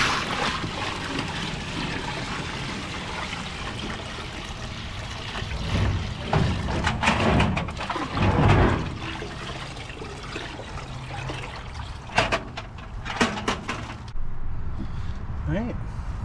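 Worm compost tea is poured into a larger bin of water outdoors, giving a steady splashing, trickling wash that runs for most of the stretch, with a voice talking over parts of it.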